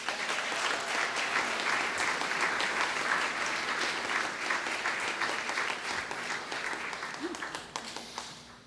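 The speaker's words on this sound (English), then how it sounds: "So ladies and gentlemen, let's give a round of applause to S." Guests at a Brooklyn Pride reception in Brooklyn Borough Hall give sustained, dense applause for about eight seconds, fading slightly toward the end.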